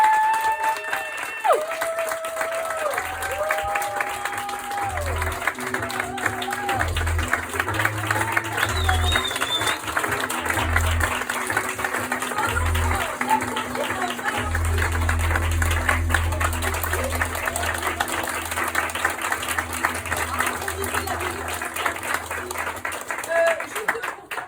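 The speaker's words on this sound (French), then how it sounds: "faire un tonnerre d'applaudissements à Clémence Charidor" An improv club audience applauds a performer with a long, steady wash of clapping, while voices and bright tones sound over it.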